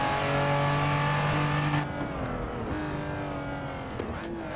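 A Toyota Supra's engine drones steadily in the Assetto Corsa racing game, a sustained harmonic whine that drops in pitch as the car brakes hard, then settles into a lower, rougher hum with small pitch shifts, loud and close.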